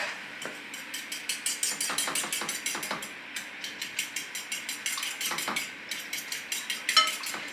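A fork beats egg in a steady, brisk rhythm of light clicking taps that carry on without pause, close and alone with no talking.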